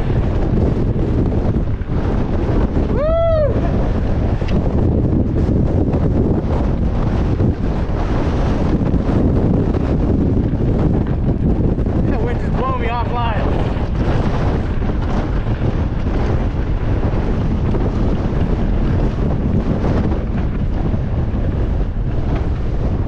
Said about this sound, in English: Into more wind.